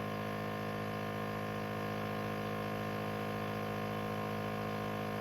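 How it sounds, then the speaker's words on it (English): A vacuum pump degasses homemade wine, giving a faint, steady, continuous mechanical hum with no change in pitch and no other sounds. "Turn off our vacuum pump."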